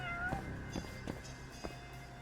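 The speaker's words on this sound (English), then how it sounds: "I hear cat. Very cute meowing." Cute cat meows in a video game, several short mewing calls spread across the moment over a steady background game soundscape, fairly close and clear.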